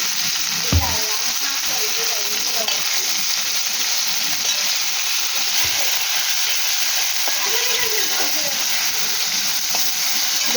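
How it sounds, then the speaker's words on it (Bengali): Diced eggplant fries in a pan with a steady, loud hissing sizzle that holds for about ten seconds, broken by a few brief stirring clatters. "বেগুনটা একটু ভালো করে ভেজে নেবো বন্ধুরা।"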